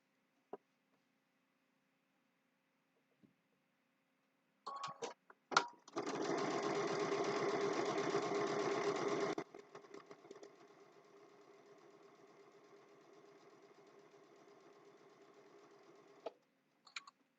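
A sewing machine stitches a mug rug, run by a foot pedal: a few clicks, then a loud steady burst of fast stitching for several seconds, easing into a quieter continuous run before stopping.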